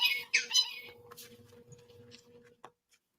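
A pet bird gives a couple of sharp, shrill squawks at the start, then small clicks and faint chatter trail off into quiet.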